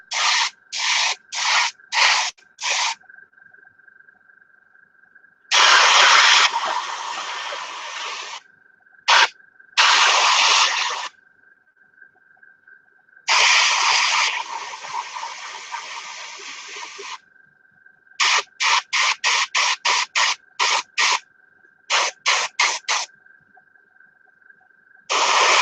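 A paint spray gun hisses as it coats a model car wheel, alternating short rapid bursts with longer sustained sprays. A steady mid-pitched compressor tone runs continuously underneath, and there is no talking.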